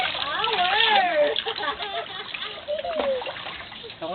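Water is poured over young children bathing in a basin, splashing and splattering continuously while the kids chatter and squeal over it.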